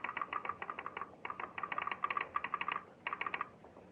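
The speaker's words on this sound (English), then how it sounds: "interpreted the clicks that came from the sounder" Telegraph sounder in a telegraph office clicking in rapid irregular clusters of sharp taps with short pauses between groups, fairly faint and with no talk.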